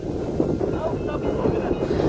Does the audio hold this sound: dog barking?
no